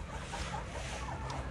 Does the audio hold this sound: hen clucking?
yes